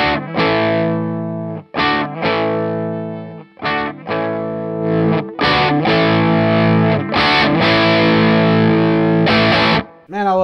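Gibson Les Paul Standard 50s on its bridge Burstbucker pickup, distorted: loud crunchy chords and riffs in short bursts separated by brief gaps, played alone.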